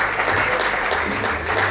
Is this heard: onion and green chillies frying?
no